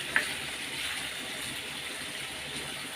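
Water is poured into a pan of katla fish curry, a steady soft gushing splash that runs evenly without pause and sits close and fairly quiet.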